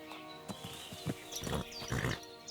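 Horse hooves clop unevenly on a hard road in the video game Kingdom Come: Deliverance II, a few scattered steps with soft snorting, over a faint steady musical hum.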